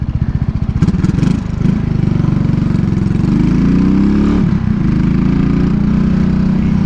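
Engine of a borrowed motorbike running close by, a steady mid-pitched drone with a brief rev and pitch sweep partway through, continuous and loud without talk.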